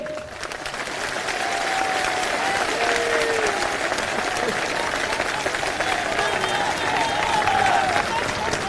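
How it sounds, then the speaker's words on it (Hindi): A large crowd at a Bahujan Samaj Party political rally applauds loudly and continuously, a dense unbroken wash of clapping with faint cheering voices mixed in. "एक बार जोरदार तालियां हमारी माताओं बहनों के लिए।"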